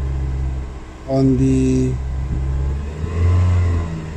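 A 2000 Holden Astra with a Z18XE engine and a failing mass air flow sensor revs up from idle, climbing and falling back to a rough rumble, with someone talking briefly over it.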